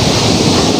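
Water rushes over a waterfall in a loud, steady, broadband roar that fills the whole moment, close by, with no other sounds standing out.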